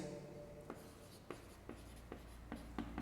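Notes are written on a board in a quiet room, with a series of short, crisp marker or chalk strokes tapping and scratching at an uneven pace.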